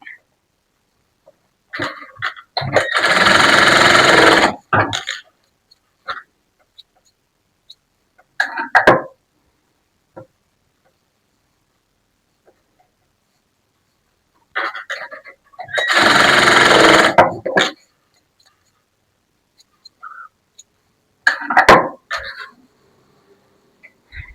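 Sewing machine stitching a blouse, running in two close bursts of about two seconds each, separated by long quiet pauses with a few faint clicks and handling noises.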